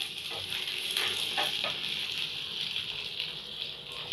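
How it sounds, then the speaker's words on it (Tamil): Garlic and shallots frying in oil for a green turkey berry curry are mixed in the pan, giving a continuous close sizzle with a few soft stirring knocks early on. "பூண்டு, சின்ன வெங்காயம் எல்லாத்தையும் நல்லா மிக்ஸ் பண்ணி விட்டுக்கோங்க."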